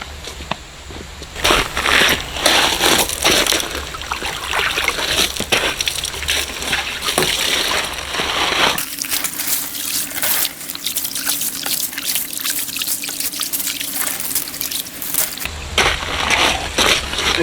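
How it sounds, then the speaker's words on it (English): Water sloshes and trickles while a gold pan is swirled and its bottom sediment washed out. Gritty gravel crunches come in uneven waves, with a short quieter stretch between them. "All that stuff in the bottom, you want to wash that out too."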